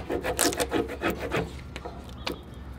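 Repeated rubbing strokes on wood veneer being pressed back down onto a cedar chest during a furniture makeover, a brisk rhythmic scuffing series close up that slows and thins out toward the end.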